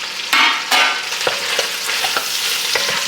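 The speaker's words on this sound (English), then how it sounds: "So as those start to get some browning on them, we're gonna go in with some onion." Homemade sage sausages and onion fry in a pan with a loud, constant sizzle, punctuated by a few stirring knocks and scrapes close by.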